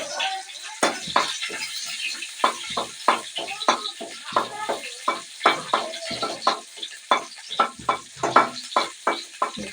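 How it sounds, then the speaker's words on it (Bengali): Chopped onion frying in hot oil in a wok, a continuous sizzle broken by frequent rhythmic stirring and scraping strokes, close and fairly loud throughout. "পেঁয়াজ কুচি দিলাম।"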